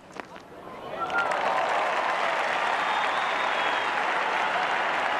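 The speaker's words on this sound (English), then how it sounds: "And the crowd enjoying this little stint of aggression by Kim Hughes, and why not?" Cricket crowd at a 1983/84 Pakistan versus Australia Test match applauding an aggressive shot, the clapping swelling after a second and holding as a steady, broad wash of applause with cheering, some distance away.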